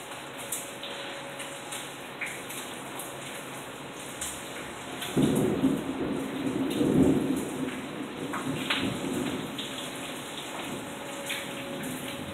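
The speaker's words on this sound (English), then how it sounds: "It's hard to imagine all this rain," Heavy rain pours steadily during Hurricane Harvey, with a deep rumble of thunder building in the middle of the stretch, all without voices.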